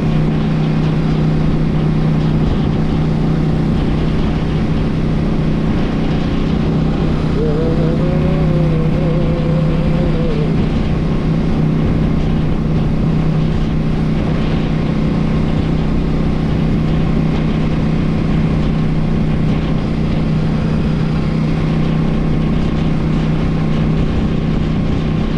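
A CF Moto 800 Touring motorcycle engine drones steadily and loudly while riding, with a continuous low hum and heavy wind rumble throughout and no talking.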